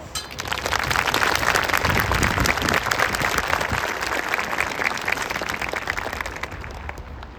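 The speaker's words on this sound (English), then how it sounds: "Please join me in a round of applause" Audience applause at a graduation ceremony, a loud, sustained crowd of clapping hands rising quickly and continuing evenly for about seven seconds before beginning to thin.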